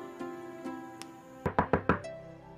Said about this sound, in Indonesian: kayaknya dia ngetok pintu ya?